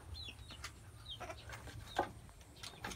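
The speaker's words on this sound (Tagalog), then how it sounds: "Ang daming mga manok dyan sa loob." Chickens clucking among a flock near a house beside rice paddies, short scattered calls over steady low rural background noise, no talk.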